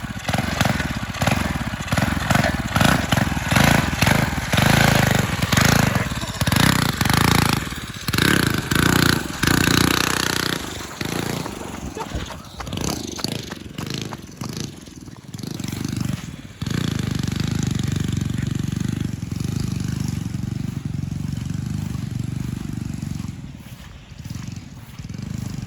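A turbocharged mini bike engine runs hard at top speed, a loud continuous buzzing drone with rough, pulsing revs that hold steady and then sustain near the mic throughout.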